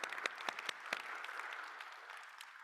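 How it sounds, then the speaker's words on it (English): Mid-concert applause from an audience in St. Mark's church, a soft room-filling patter of many hands with a few crisp individual claps early on, gradually fading over nearly three seconds. "Let's do another midpoint round of applause."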